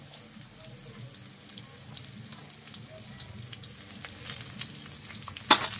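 Ridge gourd, eggplant and other vegetables fry over high flame in a pan, a steady close sizzle and crackle that swells slightly, with a brief sharp clatter near the end.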